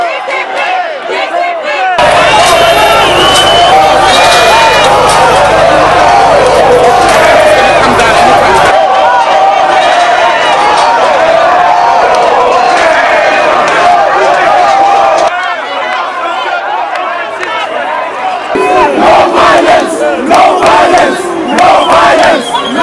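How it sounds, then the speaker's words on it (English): A large, rowdy crowd of protesting students at the Union Buildings roars and chants, loud and sustained, with surges of shouting and a few abrupt cuts between bursts. "the crowd got rowdy again, this time with an increased level of aggression"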